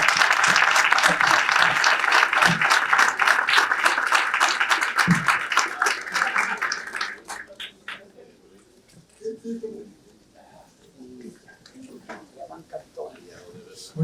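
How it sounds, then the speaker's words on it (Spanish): A standing audience at a book launch gives warm, sustained applause, loud and dense for about seven seconds, then fading to scattered claps as a voice speaks. "yo les pido a ustedes que de pie le demos un caluroso aplauso a este dominicano llegado del frío"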